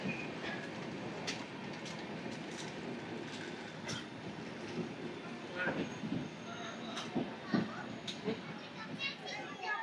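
Inside the Samata Superfast Express pulling out of Parvathipuram station, the train's rolling rumble runs quietly and steadily, broken by sharp clicks and brief wheel squeals as it picks up speed, with a voice talking over it.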